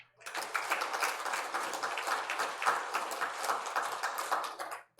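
A church congregation claps together in a Sunday service, moderately quiet, steady rapid applause lasting several seconds before fading out.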